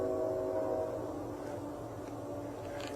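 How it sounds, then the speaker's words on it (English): CSX train far off in the night, a faint distant rumble with a brief tonal horn-like sound at the start, heard alone. "there was a train sound in the distance. That sounds like a CSX train."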